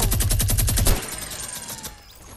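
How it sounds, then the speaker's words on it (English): Rapid automatic gunfire in Fortnite rattles off in a fast, even burst of about a dozen loud shots, then cuts out and leaves a ringing, fading tail with a faint rumble behind it. "He's just shooting my house."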